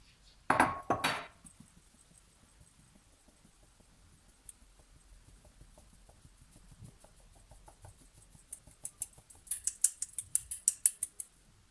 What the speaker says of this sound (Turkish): iki su bardağı da unumu şöyle eleyerek içerisine ilave edeceğim